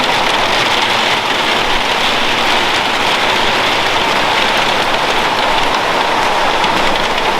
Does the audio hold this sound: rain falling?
yes